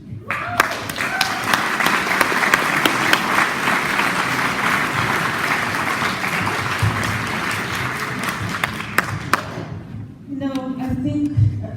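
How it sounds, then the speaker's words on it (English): An audience applauds a speaker with dense, sustained clapping that fills the room for about ten seconds, then tapers off abruptly into a few scattered claps as a voice begins talking. "another round of applause for Dr. Tallamy"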